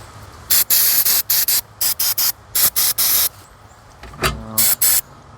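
Berryman carburetor cleaner hisses from an aerosol can onto a corroded carburetor from a 1950s wood splitter. It comes as a series of short, loud, close spray bursts separated by brief pauses.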